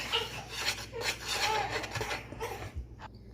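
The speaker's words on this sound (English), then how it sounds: "the baking powder and salt, and I'm gonna just kind of whisk them together here" Baking powder and salt are whisked together in a bowl, making a continuous scraping, rasping swish with rhythmic strokes that comes close and fairly loud.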